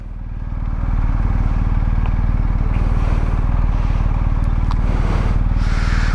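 A motorcycle engine idles and runs steadily up close, a low rumbling throb with a faint scraping rattle on top.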